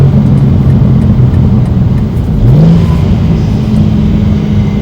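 A BMW G87 M2 fitted with an AWE aftermarket intake idles loudly up close, then its engine blips and revs briefly before settling back into a steady, deep drone.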